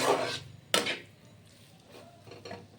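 A spatula scrapes and clatters against a pan as moong lentils are stirred and fried with spices for vegetable khichuri, with two sharp metallic knocks followed by softer, intermittent scraping.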